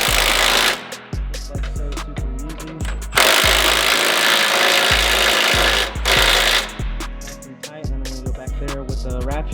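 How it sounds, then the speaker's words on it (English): A 21 mm deep socket on an extension and swivel drives the track bar drop bracket bolts on a 2022 F-350 Platinum during a lift kit install, a loud chattering run of impacts in bursts with short pauses. "Ratchet and get it snugged down perfect."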